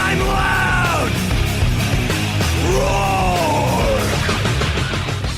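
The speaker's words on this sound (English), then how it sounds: "I'm yelling and screaming," A man yells and screams loudly in a sustained, strained voice, his cries rising and falling in long howling bends against a dense, noisy backdrop resembling early-90s heavy metal.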